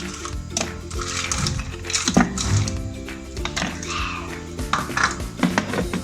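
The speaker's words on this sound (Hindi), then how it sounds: "मैं इसमें आइस डालती हूँ" Ice cubes clatter into a mango milkshake, a run of close, sharp knocks and rattles against the container.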